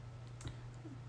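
A single sharp computer mouse click in Mastercam CAD software, brief and close against a low steady hum.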